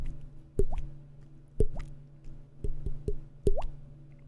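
A voice imitates water drops with a series of wet plops and drips, about six distinct pops spaced irregularly, close and clear in quiet surroundings.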